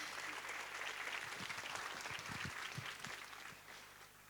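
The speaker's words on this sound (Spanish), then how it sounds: "Dale un aplauso al Evangelio, por favor, en este momento." A church congregation applauds during a Spanish-language service, broad sustained clapping heard from a distance, fairly faint, with a low voice murmuring underneath as it fades slightly.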